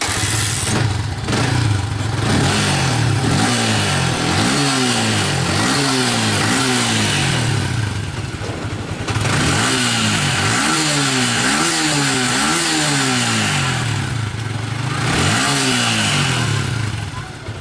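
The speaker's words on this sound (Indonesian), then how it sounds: "kalau untuk lagi standar seperti ini kita gober-gober nggak ada masalah" A motorcycle parked on its stand revs repeatedly, its engine rising and falling in quick throttle blips over a steady idle, loud and close, with a voice talking over it.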